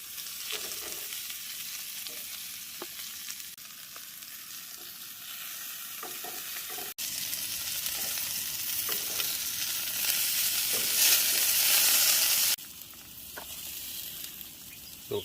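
Food fries in a pan over a camp stove at a riverside campsite, a continuous near sizzle that swells louder for a stretch and then settles back.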